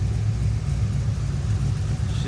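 A 2010–2015 Chevrolet Camaro SS V8 idles after an oil catch can install, a steady deep rumble heard close by with an even, smooth, continuous tone.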